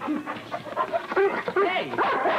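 A dog whimpers, yips and gives short barks, close and loud in an excitable run, while a person talks over it.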